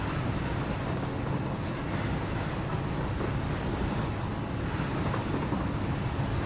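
A train in Satisfactory, with a steady, low rolling rumble of a passing train that holds evenly throughout, faint and without speech.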